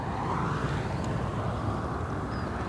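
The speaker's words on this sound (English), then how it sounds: "equipped with two GE90 engines. Listen to these roar." An airliner with two GE90 engines roars at O'Hare airport, a loud steady low rumble with broadband engine noise filling the whole stretch.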